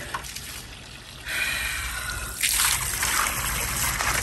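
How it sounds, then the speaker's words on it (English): Water runs from a kitchen sink tap into a whole turkey, a close rushing splash that grows louder partway through and stays steady. "I just pump as much water inside this bird as I can."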